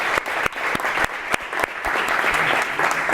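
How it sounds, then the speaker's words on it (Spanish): Audience applause at a university lecture in Hamburg, steady dense clapping with a few sharper claps standing out, sustained at even loudness throughout. "le voy a pedir un nuevo aplauso para"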